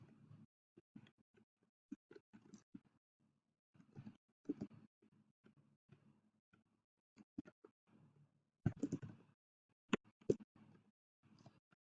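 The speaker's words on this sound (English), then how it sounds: "So then I'm going to open the box, and I'm going to type my MLA heading." Computer keyboard keys being typed while entering a text heading, a quiet run of soft, irregular clicks and taps with brief pauses and a few louder clustered bursts.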